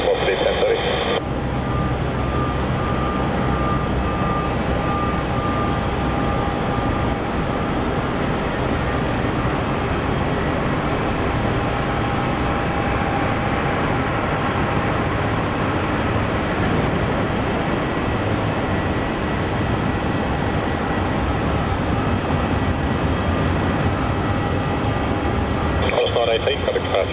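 An airliner lands on runway 16 at Melbourne Airport, its engine roar a steady, continuous wash heard from a distance while an air traffic control radio voice talks over it.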